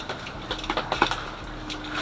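A cardboard box holding a subwoofer enclosure is cut up, giving a quick series of sharp scratchy tearing and slicing clicks close by, short and irregular.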